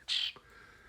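A pet bird gives a single short, faint chirp, high and bright, followed by a soft trailing note in a quiet indoor room.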